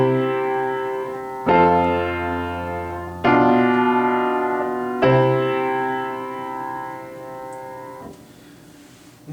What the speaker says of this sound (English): Instead of using a dominant chord, a 5 chord, we can substitute a 7 chord instead.